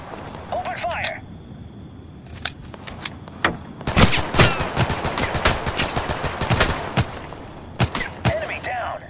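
Gunfire rings out in the Total Conflict Resistance war game during a night fight: scattered single shots, then dense rapid machine-gun bursts and volleys, loud and close. Brief voices come through at the start and end.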